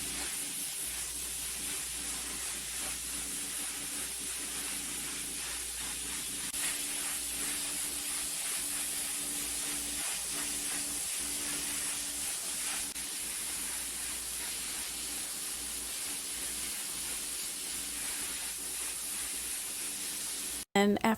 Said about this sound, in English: we decided to go over everything with the power washer, get everything cleaned before we start doing some things back here